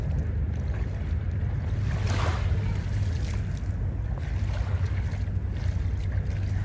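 A trash skimmer boat's motor drones steadily on open water in Manila Bay, with wind and lapping waves washing over it throughout.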